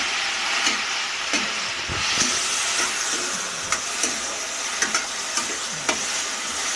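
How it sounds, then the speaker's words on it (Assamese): Cut and washed potatoes fry in hot oil for an Assamese vegetarian meal, giving a steady, close sizzle with scattered spatters and soft scraping knocks as they are stirred. "থোৱা আলুখিনি মই তেলত দি দিছোঁ।"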